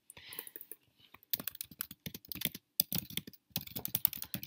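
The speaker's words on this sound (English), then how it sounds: "So I can type directly into my text panel." Typing on a computer keyboard, a close, fast, irregular patter of key clicks in bursts with short pauses, faint whispery breath early on, no clear talking.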